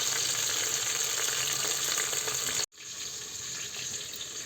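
Green chillies frying in oil while being stirred, a loud close continuous hiss and crackle that cuts out abruptly for an instant, then resumes slightly softer.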